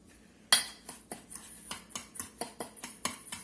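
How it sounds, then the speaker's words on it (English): A utensil clinks and scrapes against a bowl in a quick, uneven rhythm as breadcrumbs are tossed with melted butter for jalapeno poppers; close and fairly quiet. "We're just going to kind of go through here and mix this up and get all these breadcrumbs buttered up a little bit"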